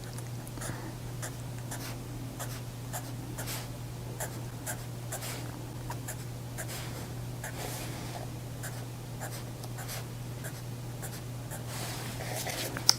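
A pencil draws lines on grid paper, giving a steady close scratching with short repeated strokes over a constant low electrical hum, with no talking.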